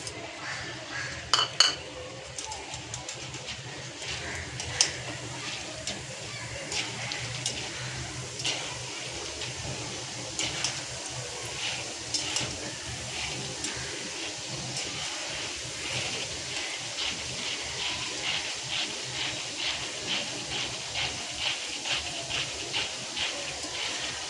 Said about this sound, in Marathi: इथे कढईत तेल घेतलेलं आहे, तो इथे आपलं तेल गरम झालेलं आहे। ते फुटाणे आहेत ते भाजून घेऊया